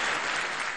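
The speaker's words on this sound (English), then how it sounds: "Then a resounding ovation as a Palestinian leader entered the General Assembly chamber." Delegates in the UN General Assembly chamber give a resounding ovation as a Palestinian leader enters, sustained dense applause from a large hall, loud and even, fading slightly toward the end.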